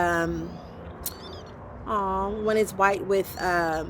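A kitten meows repeatedly, close and clear, several drawn-out cries with short gaps between them, from a group of cats living under a porch.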